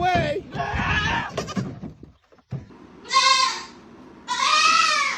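A baby goat bleats loudly and close by in several calls, with a person talking between the early cries and two long bleats near the end.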